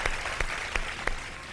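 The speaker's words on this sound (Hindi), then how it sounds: "बहुत सारी तालियां" A studio audience on the Ramadan iftar television show Shan e Iftar applauds contestants, thick steady clapping punctuated by four evenly spaced, louder accents.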